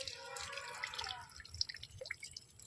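Water drips and trickles off a plastic fishing bottle just lifted from a pond, a faint close patter of scattered drops that thins out toward the end.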